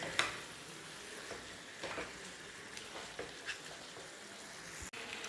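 Chicken with salt and garam masala sizzles faintly in a pan, with soft scraping stirs and occasional light clinks as it is mixed, steady and low throughout.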